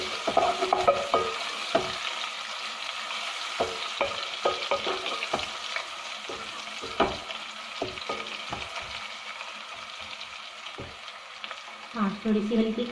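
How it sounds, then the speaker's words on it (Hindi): Onion sizzling in a pan with ginger-garlic paste as it is lightly fried, a steady broad hiss broken by repeated sharp scrapes and stirring clicks, close and fairly loud, with no voices. "फिर इसके अंदर हम अदरक लहसुन का जो पेस्ट हमने बनाया था वो डालेंगे। इसको हल्का से हम भूनेंगे।"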